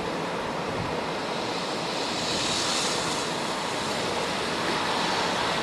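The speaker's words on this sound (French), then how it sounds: "Bonne bourrasque de neige." A strong gust of wind carrying snow roars steadily and loudly, a continuous rushing hiss that swells slightly midway, during a snowfall in Sallanches, France.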